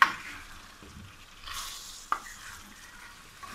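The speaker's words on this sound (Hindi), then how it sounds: "अच्छी तरह मिक्स करेंगे इसको" Potato and cauliflower pieces are stirred in a pan for aloo gobhi, a soft sizzle with light scraping and a single sharp clink of the spoon against the metal, fairly quiet and without talk.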